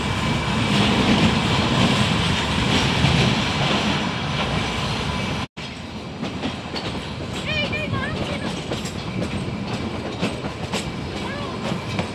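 The Kalka to Shimla narrow-gauge toy train rolls along with a steady rumble and clickety-clack of wheels, loud from on board, with a brief dropout and voices and chatter mixed in during the ride.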